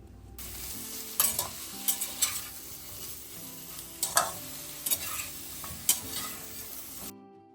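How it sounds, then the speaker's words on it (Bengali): Prawns and vegetables with salt, turmeric and green chillies being stir-fried in a pan, a steady close sizzle punctuated by several sharp spatula scrapes and clanks against the pan, ending abruptly. "আমি এক এক করে লবণ, হলুদ আর জিরে রাখা কাঁচা লঙ্কাগুলো দিয়ে ভালো করে একটু কষিয়ে নেব"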